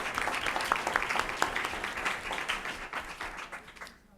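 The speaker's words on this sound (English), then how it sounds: "but round of applause for Olga De Leon." An audience at a school board meeting applauds steadily, many hands clapping in a dense patter that fades out at the end.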